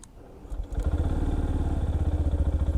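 A Yamaha FZS Hybrid motorcycle engine starts with no starter-motor whine, catching at once and settling into a loud, close, steady rhythmic idle.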